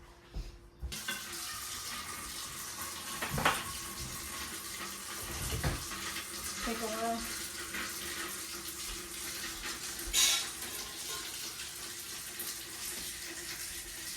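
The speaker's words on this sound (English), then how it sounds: "I gotta fill it up with water first." Tap water running into a pressure canner, a steady rushing fill that continues for a long stretch with a few clanks and knocks, and a brief spoken remark near the start.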